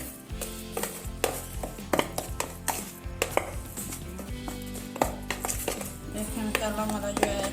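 Masala being mixed into fish pieces for a homemade fish fry, close, uneven clacks and knocks of a utensil against a bowl or plate with rustling in between, no talking.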